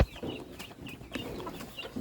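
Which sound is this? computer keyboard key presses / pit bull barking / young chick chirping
young chick chirping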